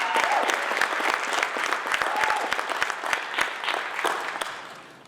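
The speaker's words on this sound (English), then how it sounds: "I just want to give a round of applause to everybody here" Audience applause at a community summit, a dense burst of clapping from a crowd filling the room, steady and fairly close before gradually tapering off toward the end.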